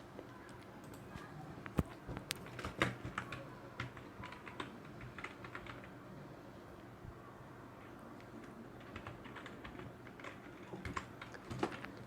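Quiet, steady typing on a computer keyboard while entering C++ code, with irregular bursts of key taps and a few louder keystrokes, close and fairly soft.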